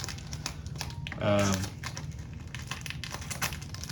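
Cellophane wrap is peeled off a Dior Eau Sauvage Extreme perfume box, giving a short, close crinkling burst of about half a second over a quiet background, with talking nearby.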